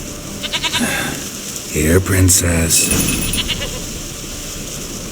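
A goat in The Witcher bleats with a couple of short, nasal cries close by, set against ambient game sound, while a voice speaks briefly just before.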